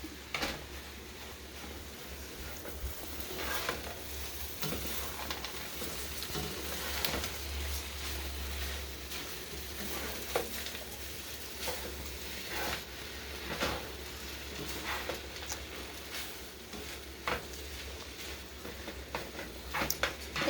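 Trout fried rice is stirred in a pan: a faint, low sizzle runs under scattered spatula clicks and scrapes, with a quiet background hum throughout.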